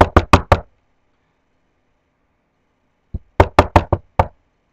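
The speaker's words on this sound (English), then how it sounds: "Peggy rapped on the window." Knocking on a window: a quick burst of four sharp raps, a pause of silence, then another run of five or six crisp knocks, close and clear.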